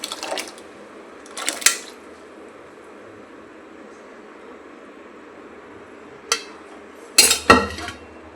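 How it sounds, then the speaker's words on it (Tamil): Cooked dal goes into simmering hotel-style sambar in a pot, with a few short metallic clinks and clatters of a utensil against the pot separated by quiet stretches. "இப்போ நம்ம வேக வச்சுருக்க பருப்பை சேர்த்து"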